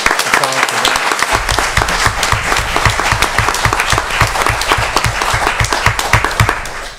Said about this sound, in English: Let's give Ron another applause for that.